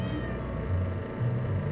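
A stray cat meows in the farming game Stardew Valley, a few short game-sound mews rising over a steady low background hum.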